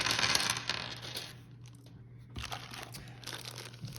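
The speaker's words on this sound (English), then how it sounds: "dump all the dice out" Plastic dice for the Warhammer Underworlds Wyrdhollow board game tumbling out of a plastic bag, a crinkly rattling rush at first, then a pause and a second spill of clicking dice.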